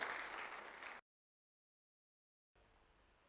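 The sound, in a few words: audience applause at an event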